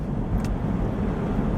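A Holden car is driven along, its steady low engine and road rumble heard close and continuous for a brief moment.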